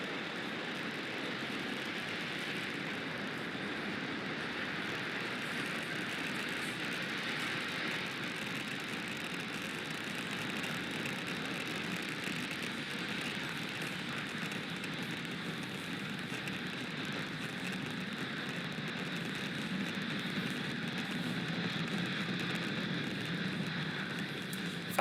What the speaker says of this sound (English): Falcon 9 has successfully lifted off from Space Launch Complex 40 at Cape Canaveral Space Force Station